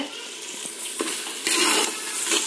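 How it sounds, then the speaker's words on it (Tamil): Prawns stirred with onion and tomato in a hot pan for prawn biryani, a steady close sizzle with scraping stir strokes that grows louder midway, no voices. "சேர்த்து அந்த வெங்காயம் தக்காளி கூட நல்லா அதை மிக்ஸ் பண்ணிக்கோங்க."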